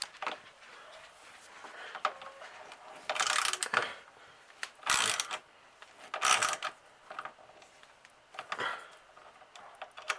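A hand wrench ratcheting while fastening wheel well guards on a 2018-2019 Can-Am Maverick Sport UTV, several quick clicking bursts of turning spaced through otherwise quiet workshop air.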